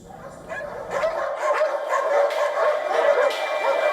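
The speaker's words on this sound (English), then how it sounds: "Morocco was indiscriminately ridding its streets of stray dogs" Stray dogs on a Moroccan street bark and yip repeatedly, several voices overlapping in a loud, agitated chorus that carries on without pause.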